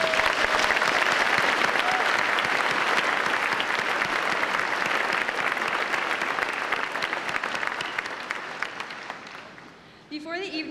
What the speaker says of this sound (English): Please join me in a round of applause to celebrate the graduates sitting before you.